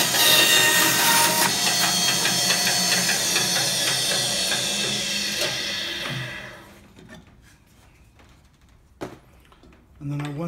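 A saw bites through a piece of Bocote wood with a loud, bright, grinding cut lasting about six seconds before fading out, leaving quiet handling noises and a few faint clicks.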